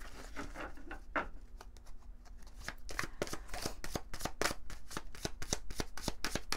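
An oracle card deck is shuffled by hand, with a soft riffling patter that builds into a dense run of quick, crisp card flicks, close and steady.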